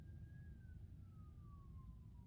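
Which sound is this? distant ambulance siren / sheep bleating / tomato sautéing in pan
distant ambulance siren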